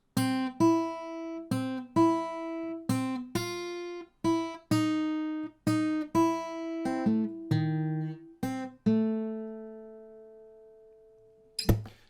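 A guitar plays the hook of a theme from Harry Potter, with clear plucked single notes ringing out in a steady melodic line. The last note sustains and fades before a faint final tap.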